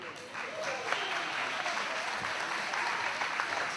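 An outdoor audience at a veterans memorial event gives a steady round of applause for a 92-year-old clarinet player, fairly loud and continuous, with faint voices underneath.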